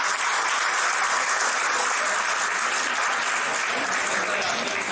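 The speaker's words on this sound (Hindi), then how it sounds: "उनके लिए जोरदार तालियां बढ़नी चाहिए।" Loud, dense applause fills a university hall, a steady wash of clapping from a large audience that holds at full strength throughout with no break.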